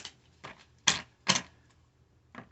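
Short, crisp papery bursts spaced irregularly, tarot cards being shuffled and tapped close by, with quiet pauses between them.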